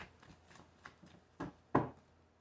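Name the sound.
shuffling tarot cards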